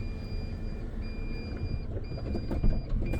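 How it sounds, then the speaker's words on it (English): A VW ID.Buzz Pro S Plus sliding door gives its closing warning alarm, a faint, steady series of electronic beeps over the hum and mechanical rumble of the moving door. "they do have the alarm that they're closing"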